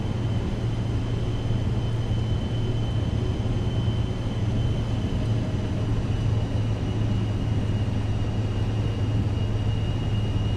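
Aircraft engines humming steadily while taxiing in Microsoft Flight Simulator 2024 at Adak, Alaska, a constant low drone with a faint high whine, unchanging and close, with no voices.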